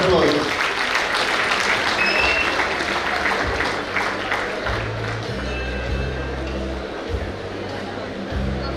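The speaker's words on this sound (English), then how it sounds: "They need a big round of applause." An audience at a Rotary district conference in Mangaluru breaks into loud, sustained applause that gradually thins, with a voice speaking over the clapping near the end.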